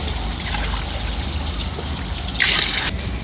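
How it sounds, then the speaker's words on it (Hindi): Water trickling steadily from a measuring pot into a pot of rice for chicken pulao, a continuous close pour with a brief louder splash near the end. "उसी बर्तन के साथ मैं पानी डाल रही हूँ इसमें।"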